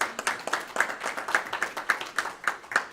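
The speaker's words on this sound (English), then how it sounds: "Give them a round of applause, please." An audience applauds state representatives at a Michigan Democrats legislative event, with sparse, distinct claps that sound fairly close and come in an uneven rhythm. It is brief, thin applause from a small crowd, and no one speaks over it.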